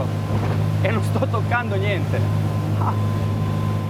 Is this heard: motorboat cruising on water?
yes